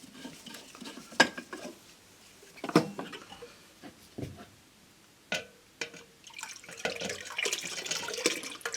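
Water poured into a hemp and casein bioplastic mixture, with scattered splashes, clinks and stirring knocks, then a longer stream of pouring water near the end, close and moderately loud.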